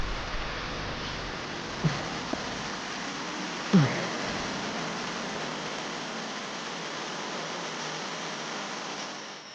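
A light rain shower falls in a rainforest, a steady soft hiss of drops with a couple of faint brief knocks.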